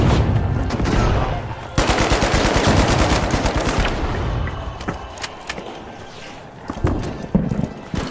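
Gunfire in the video game The Finals, loud sustained rapid automatic bursts and scattered single shots amid busy game noise, tapering to sporadic cracks toward the end, no speech.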